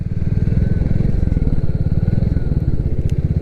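Loud, continuous low throb of a 2022 Royal Enfield Classic 350 motorcycle engine while riding, pulsing steadily and close up with no break.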